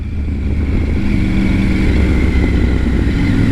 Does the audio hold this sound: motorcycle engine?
yes